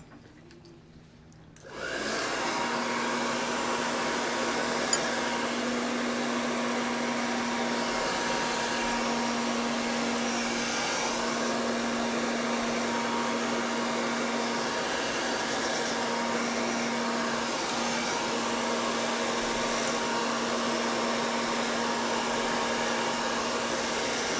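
A hair dryer blows steadily onto poured paint, starting with a click and then running as a loud, continuous whirring hum that stays alone throughout.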